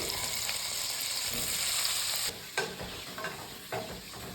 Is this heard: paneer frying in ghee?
yes